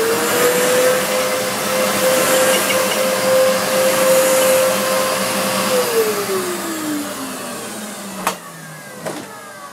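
A Hoover PurePower vacuum cleaner running after a new switch was fitted, its motor whining steadily and close, then the pitch dropping as it slows, followed by a couple of sharp clicks near the end.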